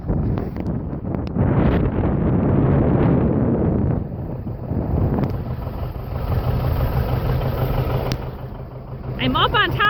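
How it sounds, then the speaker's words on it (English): Strong wind on a hilltop buffets the microphone in a steady, rumbling roar, with a voice speaking faintly beneath the gusts. "I'm up on top of this hill and it gets so windy"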